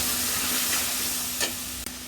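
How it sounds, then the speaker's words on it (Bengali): Onion paste frying in oil in a wok for a prawn malai curry, giving a steady broadband sizzle with a couple of brief stirring scrapes, close and alone without talk. "এই কড়াতে তেল দিয়ে দিচ্ছি, এটাতে রান্না করব। পেঁয়াজ বাটা দিয়ে দিচ্ছি"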